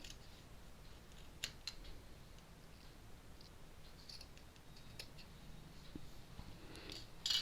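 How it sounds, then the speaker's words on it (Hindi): Scissors snip through kurti fabric while cutting out the back neck, a few faint, sparse crisp snips over a quiet room background. "बैक नेक को मैं पहले काट रही हूँ"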